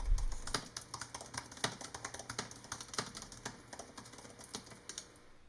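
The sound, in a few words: typing on a 2018 15-inch MacBook Pro keyboard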